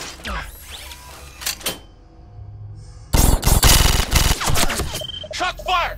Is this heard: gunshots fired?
yes